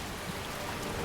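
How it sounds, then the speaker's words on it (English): Steady rain falling in the Skyrim game world, an even, close hiss of drops on surfaces that runs without a break and with no talk over it. "Still raining."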